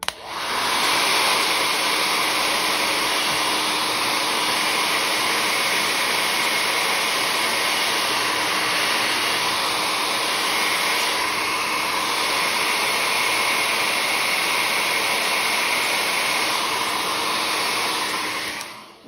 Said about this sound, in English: Okay, noise coming up of hairdryer.